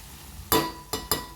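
Capsicum cooks in a pan on a low flame under a faint, steady sizzle, broken by three quick, close scraping knocks of a utensil against the pan.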